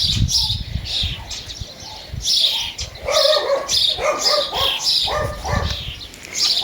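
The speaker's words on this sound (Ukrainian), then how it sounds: "Сусідські собаки" Several neighbourhood dogs bark repeatedly in the mid-distance, overlapping one another, while birds chirp in the background of a garden.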